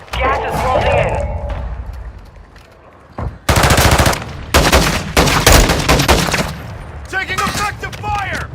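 Loud bursts of automatic fire and repeated shots in the battle royale shooter Warzone 2, coming in several heavy clusters between stretches of game voice callouts and radio chatter.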